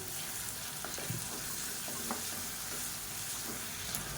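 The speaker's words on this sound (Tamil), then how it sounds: "இப்போ வெங்காயம் நல்லா வதங்கிருச்சு" Onions sautéing with salt in a pan for a spiced masala hiss in a steady, close, continuous sizzle, with a few faint clinks of stirring scattered through and no talking.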